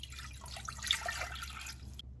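Two cups of water poured into coconut milk powder, a steady splashing trickle lasting about two seconds, close and fairly quiet, then stopping abruptly.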